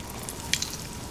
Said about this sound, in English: you're gonna put the chicken into the frying pan